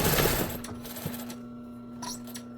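A sewing machine back-stitches fabric for a pet bed: a brief rough burst, then a steady, quiet mechanical hum with a few small clicks.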